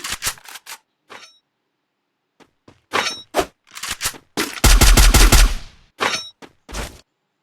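Enemy gunfire in the battle-royale game Free Fire: short bursts of sharp, rapid shots come in separate clusters, with one longer and louder sustained volley near the middle, all heard without talk.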